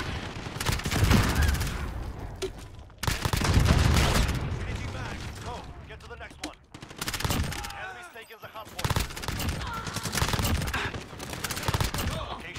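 Bursts of rapid shotgun and automatic gunfire from a Call of Duty Modern Warfare match come in loud, close clusters, with shots and weapon mechanism clicks between them and short gaps of quieter game sound.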